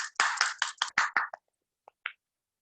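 A small audience at an event honoring a group of directors gives a short burst of about eight quiet, distinct claps, then silence broken by two faint final claps.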